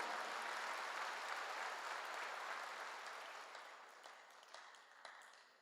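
A church congregation claps together during a sermon, a fairly quiet, dense patter of many hands that gradually thins and fades, with a few sharper isolated claps toward the end.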